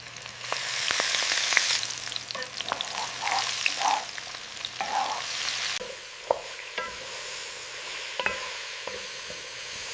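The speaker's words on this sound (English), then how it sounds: "Sautéing them very quickly. Just until they turn perfectly pink." Marinated shrimp sautéing in a hot pan for sweet and sour lotus stem shrimp soup, giving a steady close sizzle with scattered pops and crackles that ease slightly toward the end.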